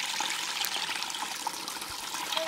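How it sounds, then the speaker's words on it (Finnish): A small forest stream in Keuruu, Finland, flowing with a steady, broad rushing trickle, close and fairly loud, alone without voices. "Kato, siinä onhan oikee puro."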